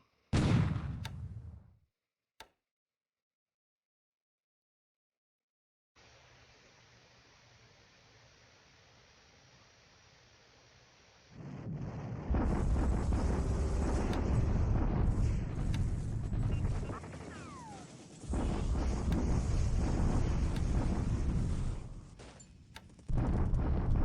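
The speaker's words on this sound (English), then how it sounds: "These are all bombardment attacks." Naval bombardment in the War in the Pacific strategy game: dense, sustained rumbling barrages of shellfire fill long stretches, broken by a short quiet gap and an earlier low hum, with no talk.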